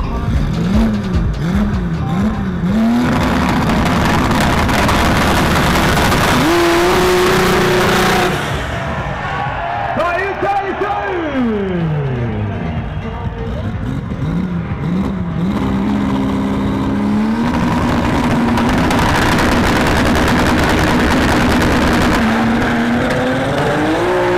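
A six-cylinder drag race car roars at Interlagos, its engine climbing through repeated revving gear changes, briefly easing off before surging again, loud and sustained with a dense mechanical rasp.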